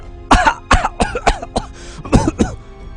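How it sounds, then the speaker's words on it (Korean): A harsh coughing fit from smoking a cigarette, about eight rough coughs in quick succession, close and loud. "담배라서 그런지 목이 막혀서 토할 듯이 기침이 쏟아졌다."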